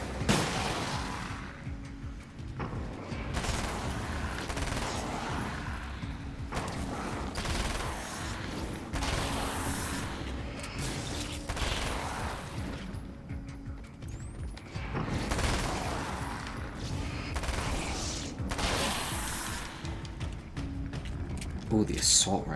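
Fully automatic assault rifle fire in the video game Alan Wake rattles in sustained bursts through much of the stretch, mixed with game effects while someone talks over it.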